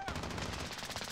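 Rapid automatic gunfire rattles in Call of Duty Warzone, a fast continuous burst of shots with a heavy low thump, loud and close in the game mix.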